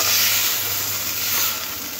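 Prawns frying lightly in oil give off a loud, continuous close-up sizzle with a bright hiss that holds steady throughout.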